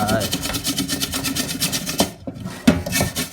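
Fast, rhythmic hand scrubbing on a Thai barbecue grill pan, close and steady, with a brief pause near the end before the strokes resume.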